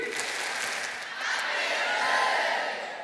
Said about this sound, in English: Clap once, twice, 3.